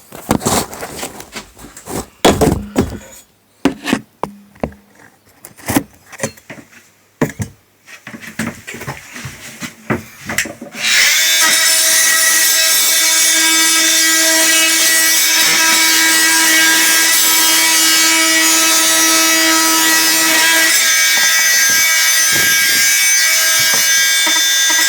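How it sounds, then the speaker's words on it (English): An oscillating multi-tool cuts through an old PVC toilet flange, starting with scattered scraping and knocking before a loud, steady high buzzing whine runs continuously for the rest of the time, close up. "my oscillating tool"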